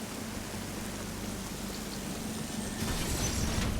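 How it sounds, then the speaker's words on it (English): Steady rain patters in an underground, water-themed area of Metroid Dread, a soft broadband wash with a low hum beneath it that grows slightly louder toward the end, with no voices. "this doesn't feel like it's underground, you know, because there's rain"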